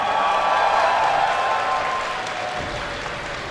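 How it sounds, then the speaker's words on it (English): A live esports crowd at a StarCraft 2 tournament applauds a player, steady loud clapping with some cheering that fades slightly toward the end. "Give a cheer for Naniwa!"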